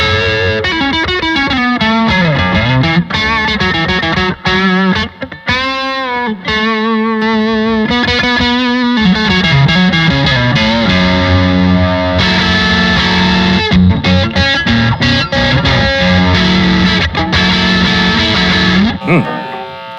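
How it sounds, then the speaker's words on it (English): Distorted electric guitar played through a Blackstar St James amp, crunchy and saturated with sustained chords and riffing, loud and continuous throughout. "Really love the crunch on and the distortion on this amp."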